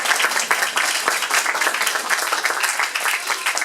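At a prize-giving, an audience applauds a cutting-prize winner with close, crisp clapping from a modest crowd, individual hand claps audible as a brisk uneven patter.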